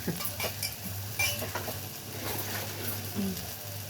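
Crab rasam is stirred in a pot over a low sizzle, with scattered clinks of a ladle against the metal and a soft patter, a steady hum beneath, no one talking.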